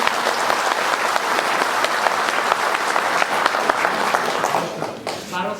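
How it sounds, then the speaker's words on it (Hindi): Audience at a Tipra Motha foundation day gathering applauding, a dense, steady burst of clapping lasting several seconds before thinning out at the end. "ताली मारिए।"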